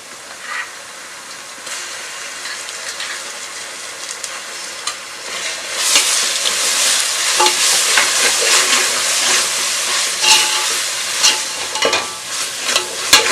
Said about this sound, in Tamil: இப்போ இந்த நேரத்தில் வந்து இஞ்சி பூண்டு பேஸ்ட் நம்ம வந்து ஆட் பண்ணிக்கலாம்